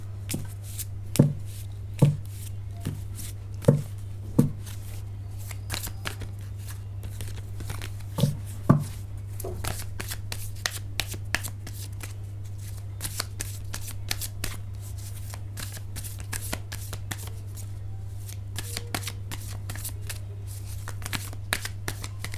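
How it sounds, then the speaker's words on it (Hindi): Tarot cards shuffled by hand: a series of crisp riffling bursts, sharp and spaced in the first half, then quieter, lighter shuffling over a low steady hum. "कार्ड्स को मैं शफल करती हूँ।"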